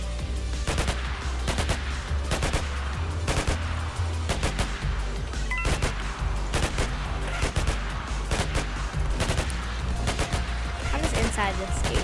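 Rapid, loud gunfire from a gun in the Roblox Giant Survival game crackles in irregular bursts and single shots for the whole stretch over a steady low rumble.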